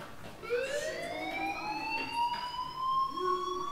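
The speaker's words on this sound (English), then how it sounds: "do you hear that fire alarm?" Electronic fire alarm in the video game Life is Strange, a rising, wailing siren tone that sweeps upward and holds steady, sounding continuously and fairly close with no talking.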